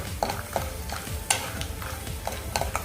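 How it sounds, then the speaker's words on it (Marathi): Peanuts roasting in ghee in a pan while being stirred: soft continuous sizzle with repeated scraping strokes and light rattles of nuts, close and steady. "आपण या शेंगदाणे भाजून घेणार आहोत"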